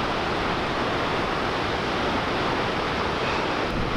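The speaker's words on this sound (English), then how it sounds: "I'm expecting this to be the most spectacular waterfall I've ever seen in my life." A dense, continuous roar of rushing water from Godafoss waterfall in Iceland, broad and steady like a powerful waterfall nearby, with wind rumble and no voices.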